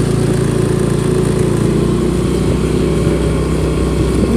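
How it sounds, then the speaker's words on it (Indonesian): Motorcycle engine running close by at a steady, loud idle-like drone with constant rumble, no voices over it, just before riding off toward Telaga Madirda lake in Karanganyar. "langsung aja kita nyalain motornya, kita menuju Telaga Madirda"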